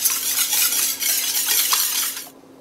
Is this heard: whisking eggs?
yes